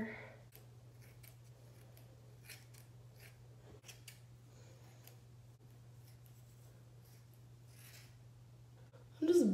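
Scissors snip through hair in a series of quick, faint, irregular cuts over a low steady hum, close by and quiet, with a brief louder sound at the end.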